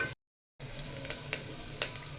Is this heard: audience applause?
no